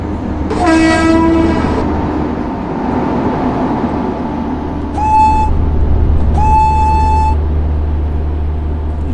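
Locomotive horn in Train Simulator Classic on the Kamayani Express route, with one long loud honk followed by two shorter blasts over a steady rumbling train engine, no talking.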